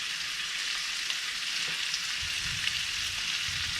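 Pieces of beef tongue sear in a crowded pan, giving a continuous close, bright sizzle with light crackling and a few low bumps. No one speaks.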